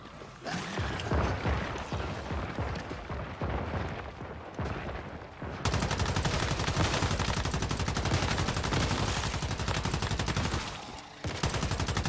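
Light machine gun fire in the survival shooter Once Human, sustained automatic bursts that grow into a dense, loud, continuous rattle with a brief pause near the end, no voices.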